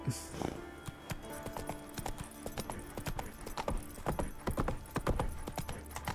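Rhythmic clip-clop of horse hooves trotting in the video game The Witcher 3: Wild Hunt, close and steady, with a brief whinny near the start and a background hum.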